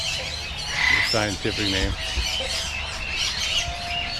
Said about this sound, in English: Psittacula alexandri.